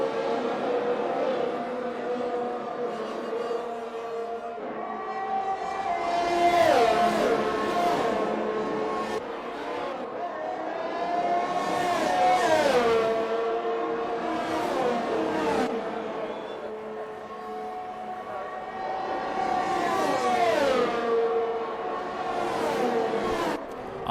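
Race cars lapping Monza in a racing video game, engine notes rising and falling in pitch through gear changes and the Ascari chicane, several cars heard together at a steady, moderate level.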